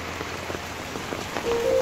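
Heavy pre-dawn rain pours steadily onto a traditional market street, a dense even hiss of drops on surfaces that swells slightly louder toward the end, with no voices.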